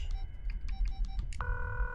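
Phone tones and dialing beeps from The Coma 2, a Korean horror video game: a string of short chirps, then one sustained ringing tone.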